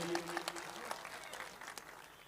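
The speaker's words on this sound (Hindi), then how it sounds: "एक बार जोरदार तालियां" An audience at a poetry gathering applauds a poet. The clapping is scattered and fairly faint and trails off gradually. Faint tonal sounds appear briefly at the start.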